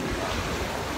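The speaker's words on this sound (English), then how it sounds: "Waves." Ocean surf at an island shore near Haig Point, a brief steady wash of breaking waves mixed with wind rush on the microphone, with no voices.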